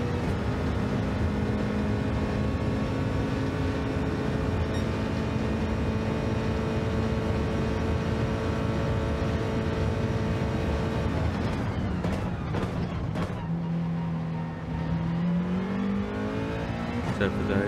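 Race car engines in Gran Turismo 7 during a WTC 800 race at Sardegna, a loud sustained engine drone held steady for a long stretch before shifting pitch and revving near the end.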